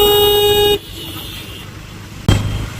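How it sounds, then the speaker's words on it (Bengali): A Splendor motorbike honks from behind on a road: a loud, steady horn blast lasts almost a second, followed by road and engine noise and then a sudden burst of rumble. "কখন দিয়ে হর্ন দিচ্ছে আমাকে"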